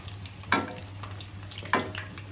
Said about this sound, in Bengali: খুব সুন্দর ভাজা হচ্ছে, যেগুলো ভাজা হয়েছে আমি সেগুলো উঠাই নেব